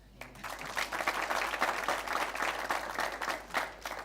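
Audience applause at a schools quiz final swells quickly after a brief pause and holds as a full, energetic round of clapping, loud and close for several seconds.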